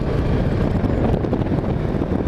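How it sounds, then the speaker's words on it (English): Strong outdoor wind buffets the microphone, a loud, continuous low rumbling roar with gusty fluctuations and no speech. "it's really windy today"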